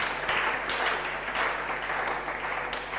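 A church congregation applauding and cheering in praise of the word of God, a sustained crowd of clapping that swells and fades over a few seconds.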